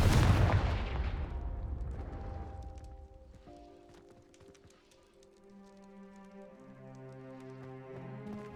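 A Confringo fire-blasting spell goes off in Hogwarts Legacy as a loud, booming burst that fades over a few seconds into faint crackles and soft musical tones.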